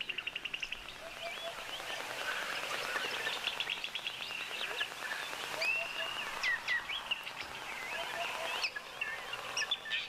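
Egyptian goose goslings calling outdoors, a dense stream of thin high peeps and chirps repeating rapidly and overlapping, close and moderately loud over a soft rustling background.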